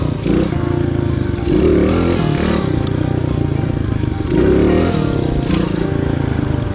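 A motorcycle engine revs hard in two loud surges during beginner wheelie practice, dropping back to a steady close idle between the bursts.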